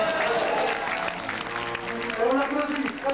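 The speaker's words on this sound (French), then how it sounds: "On applaudit très fort." An audience in a hall applauding at a ceremony honoring a knight of arts and letters, a dense, steady patter of clapping with voices mixed in, loud and close.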